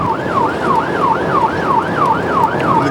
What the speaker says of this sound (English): I can see the police car coming